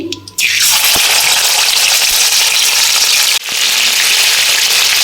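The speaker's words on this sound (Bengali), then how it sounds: "পেঁয়াজ আদা একটু কষিয়ে নিচ্ছি।" Ground onion paste with ginger hits hot mustard oil already spiced with cloves and cardamom for hilsa fish malaikari, a loud, steady, close sizzle that roars continuously with a brief dip near the end.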